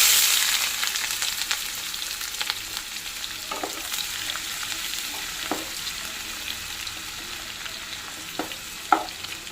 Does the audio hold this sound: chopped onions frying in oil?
yes